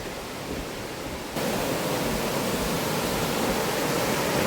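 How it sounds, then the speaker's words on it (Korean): A swollen stream rushes along the Chiaksan forest trail after rain, a dense, steady roar of flowing water that jumps louder after the first second and stays continuous and close. "어제 비가 제법 와서 그런지 물이 많습니다"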